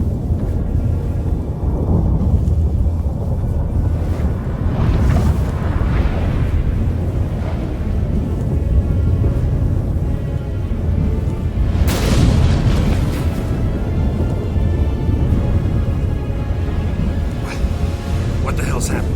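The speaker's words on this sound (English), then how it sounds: "That a storm?" A thunderous storm in a Witcher 3 video game cinematic, with loud deep rumbling booms and a sharp crack near the middle, sustained throughout under voices speaking.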